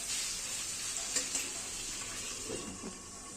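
Dried fish shutki bhorta mix sizzles in a pan under a steady, moderate hiss, with a couple of soft scrapes of stirring toward the end.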